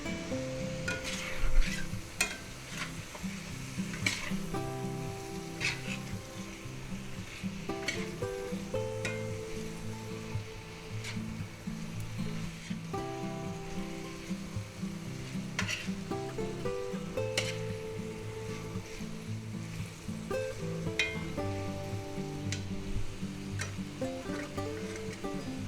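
Spicy ground beef and vegetables sizzle in a hot pan as they are stir-fried, with a soft continuous crackle and occasional stirring scrapes over a faint melodic background of music.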